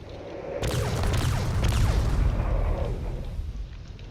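Cannons open fire on drones in a video game, a sudden loud onset of heavy booming blasts that rumble on for a few seconds before easing off, with no talk.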